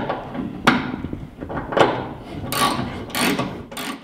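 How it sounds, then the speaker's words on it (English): A factory bolt on Toyota Tundra bed channel stiffeners tightened with a wrench, a series of close metallic ratchet clicks and clunks in uneven bursts, with no talking. "I'm going to go ahead and tighten up my factory bolt here"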